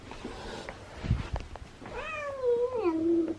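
A domestic cat meows indoors, a short call followed by a long, loud, drawn-out meow with a falling pitch, close to the listener with faint room noise and a few thumps before it.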